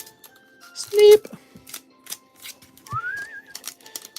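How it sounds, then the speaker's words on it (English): A person whistles a couple of short notes, one held and one sliding upward, amid sparse clicking and tapping sounds. "You have a good pitch with your whistling."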